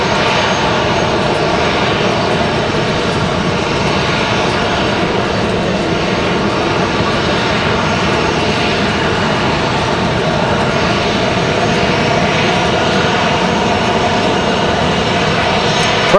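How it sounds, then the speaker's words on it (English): A United Express Embraer E175 jet passes by at Raleigh-Durham International Airport with a loud, steady engine roar that holds for about sixteen seconds as it moves toward a parked A319. "Got a Speedy United Express. The E175, going to go right past our A319."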